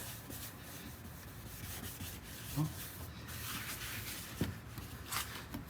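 Faint, steady gritty rubbing of abrasive against a car headlight lens, continuous with a few small bumps, close but quiet.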